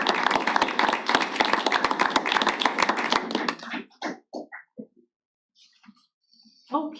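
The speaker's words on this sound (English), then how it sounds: "give them a staff. round of" A meeting audience gives retiring teachers a round of applause, with dense, close clapping for about three and a half seconds that thins into a few scattered claps and fades out.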